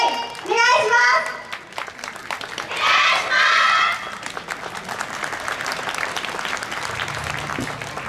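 Audience clapping and cheering at a YOSAKOI Soran dance festival as a high school team prepares to perform, with bursts of applause and children's voices shouting over a steady crowd murmur.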